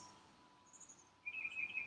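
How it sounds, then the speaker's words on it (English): Birds sing faintly outdoors in a short stretch of quiet ambience, ending in a brief, thin, high chirping phrase near the end, with no voices. "listen to the birds"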